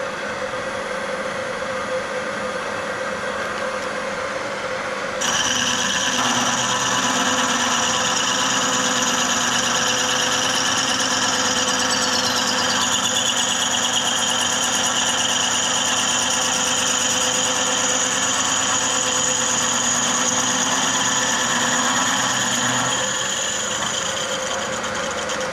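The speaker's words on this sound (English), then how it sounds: "I'm just going to now turn the machine on and machine" A machine tool cutting a trike frame part near the bottom bracket starts up partway through, then runs with a steady loud whine and hum that holds to the end with no talk.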